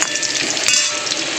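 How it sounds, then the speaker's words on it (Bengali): Potatoes frying in a pan, a steady close sizzle of hot oil with a brief stirring scrape midway, short and alone without voices. "তো চলো আগে আলুগুলো ভেজে নিই।"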